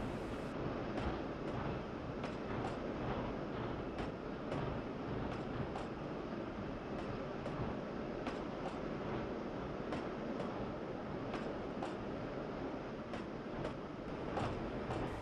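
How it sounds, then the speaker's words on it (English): A narrow gauge freight train on the Denver & Rio Grande Western route in Trainz 2009 entering the west portal of Rock Tunnel, Colorado, giving a steady rumbling roar with regular clicking rail beats throughout. "Here we see our eastbound freight entering the west portal of Rock Tunnel"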